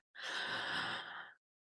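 A single full, deep breath is drawn in slowly and steadily, close and clear, lasting about a second before falling silent.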